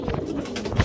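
A female Army pigeon of an old breed gives a short, soft coo, close by and alone.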